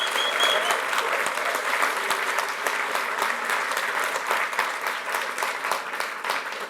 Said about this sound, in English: So can we just give Darren a round of applause for the work he does?